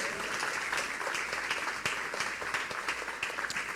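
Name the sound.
audience applause in church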